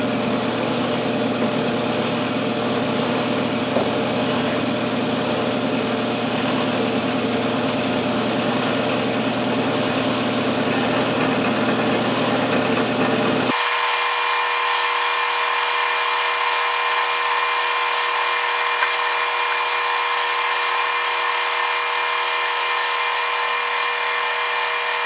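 Metal lathe fitted with a ball turning attachment cuts a steel workpiece, a steady close machine whir and cutting hiss that drops to a quieter, thinner running tone about halfway through, with no talking.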